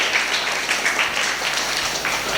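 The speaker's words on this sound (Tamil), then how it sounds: "கைத்தட்டி தந்தைக்கு நம்முடைய நன்றியை, நம்முடைய அன்பை தெரிவிப்போம்" A church congregation applauds to thank a priest, producing a dense, continuous wash of many hands clapping at steady loudness, with no voices on top.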